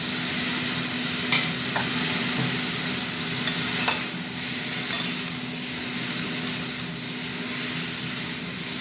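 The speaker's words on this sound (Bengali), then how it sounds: "এই যে টমেটো স্লাইস স্লাইস করে কেটে রাখা টমেটোগুলো দিলাম" Sliced tomatoes fry with colorful mixed vegetables in a pan, giving a dense, even sizzle that holds for the whole stretch, with a few faint utensil taps and no speech.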